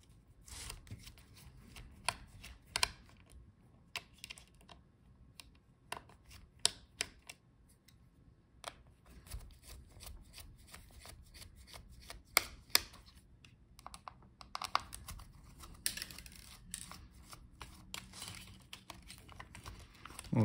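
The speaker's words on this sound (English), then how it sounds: "So take out all the screws." Screws being removed from a Dell XPS 15 9520 laptop, with scattered small clicks, taps and scraping handling noises, irregular and close, some sharper knocks, over a quiet background and without talk.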